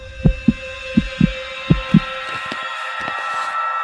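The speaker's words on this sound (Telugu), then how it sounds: "అది నా గుండె చప్పుడు రా" A heartbeat sound effect from a Telugu film pulses as three or four loud, close lub-dub double thumps over a faint hum, fading into softer beats.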